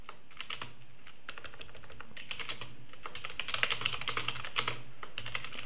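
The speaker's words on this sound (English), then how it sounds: "So just type in what you hear," Keys clatter on a computer keyboard as closed captions are typed, a close, steady run of quick clicks that thickens into faster bursts toward the end, with no voices.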